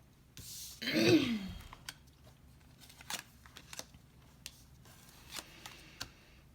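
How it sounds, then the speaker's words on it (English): Tarot cards flipped over on a table: one brief papery rustling flurry near the start, followed by scattered faint taps and soft rustles in quiet surroundings. "we definitely have the cards. The cards are flipping over."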